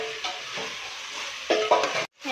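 Chicken pieces and onions fry in hot oil in a pan, a steady close sizzle with scraping stir strokes and a few louder clatters, cutting briefly to near silence before the frying resumes.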